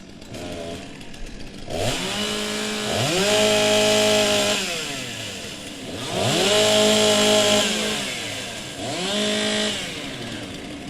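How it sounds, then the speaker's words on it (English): Chainsaws rev in warm-up at a STIHL TimberSports competition in New Zealand, loud and close, three long rising-and-falling engine surges with brief idle gaps between, no talk over them. "Warm up your saws."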